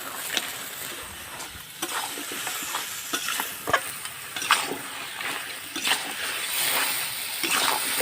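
Goat head meat stirred and frying in a spiced chili masala, a constant close sizzle with repeated wet stirring scrapes and splatters, steady and fairly loud, no voices.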